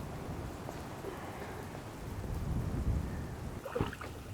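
Steady rain with a low rumbling thunderstorm at a French carp fishing lake, a continuous soft wash of rainfall and deep rolls of thunder, no speech.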